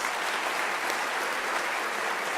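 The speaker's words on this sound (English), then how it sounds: "Let's give them a big round of applause, the graduates." Steady applause from a graduation ceremony audience fills the whole stretch, a dense even patter of many hands clapping at constant loudness with no voices over it.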